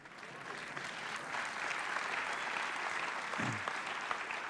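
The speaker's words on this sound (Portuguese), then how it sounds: "É um bom lugar para aplaudir." Audience applause at a Christian talk on honour, a steady wash of many hands clapping at moderate level for several seconds, with no speech over it.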